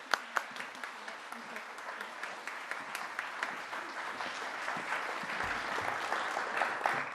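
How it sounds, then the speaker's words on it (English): Applause for a guest at an Asian American, Native Hawaiian and Pacific Islander heritage month celebration in the Pentagon, steady clapping from a fairly quiet audience with a few sharper claps and faint voices underneath. "please give a round of applause for Ms."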